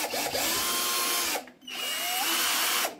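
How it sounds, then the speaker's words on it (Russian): Chinese 12-volt cordless screwdriver running on a battery of three 18650 cells after repair, whining loudly up close in two long runs with a short stop between them, no voices. "И Шурупан заработал."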